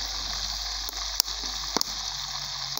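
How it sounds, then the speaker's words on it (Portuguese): Fish frying in oil over a small wood-fired stove in Goiás, a steady close sizzle with a few sharp pops and crackles, no one speaking. "já tá fritando também no fogãozinho a lenha aqui."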